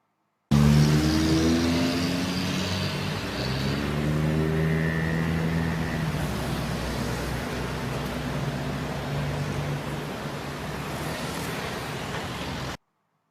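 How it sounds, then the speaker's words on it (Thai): Daytime road traffic passes as a continuous wash of engine hum and tire roar, with a vehicle's rising and falling engine tone early on, steady and fairly loud throughout. "เป็นตัวอย่างของเสียงยานพาหนะบนท้องถนนนะครับ ในช่วงเวลากลางวัน"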